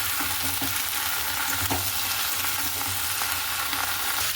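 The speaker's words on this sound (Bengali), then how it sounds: "এখানের এটাও ভাজা হয়ে গেছে" Potatoes and okra fry in oil in a pan, giving a steady, close hiss of sizzling with a few soft stirring scrapes, and no voices.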